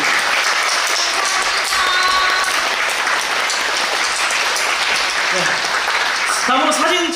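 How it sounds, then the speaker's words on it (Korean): Theatre audience applauding staff and crew at a musical curtain-call stage greeting, dense continuous clapping filling the hall, with voices briefly heard near the end. "스태프분들께 다 같이 박수 한번 드린 게 어떨까 요"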